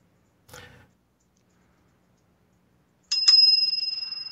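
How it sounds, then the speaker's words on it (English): A bell rings twice in quick succession at the end of a shift, two sharp bright strikes that leave a long, clear, slowly fading ring. A short muffled knock comes a few seconds earlier, and no one speaks. "Well, that was the double bell."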